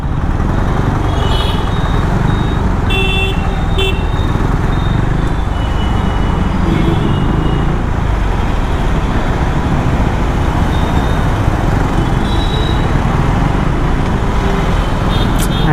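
Evening road traffic in Vizag, a dense continuous roar of cars, motorbikes and heavier vehicles passing close, with occasional horn toots cutting through the steady rumble.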